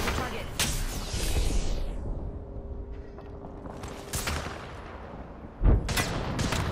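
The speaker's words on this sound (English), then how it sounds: "Where are you shooting me from?" Video game gunfire comes in several loud bursts with pauses between them, mixed with explosive thuds, and players talk during the shooting.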